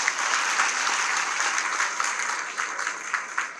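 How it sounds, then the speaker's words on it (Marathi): Applause from an audience at a youth awards ceremony, a steady dense patter of many hands clapping at close range for a few seconds, with no voices over it. "जरा जोरदार टाळ्या होईल बघा."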